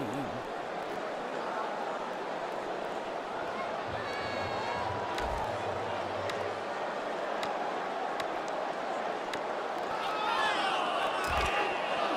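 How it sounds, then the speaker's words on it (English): A stadium crowd roars in a college football video game, a dense, steady wash of distant cheering and murmur from start to finish, with a commentator talking over it and occasional thuds. "This crowd can really be intimidating for an opposing team"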